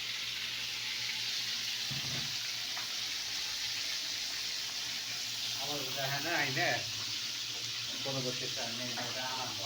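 Crab fries in a pan with a steady, fairly quiet sizzle, a soft hiss running throughout while a voice speaks briefly toward the end.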